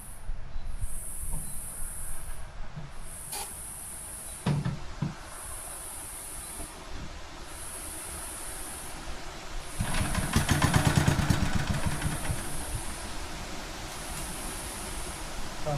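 Old Locke reel mower engine idling steadily after repair, a faint continuous mechanical drone with a brief louder burst of revving midway, close by and alone.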